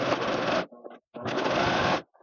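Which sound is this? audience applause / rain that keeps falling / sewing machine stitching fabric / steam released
sewing machine stitching fabric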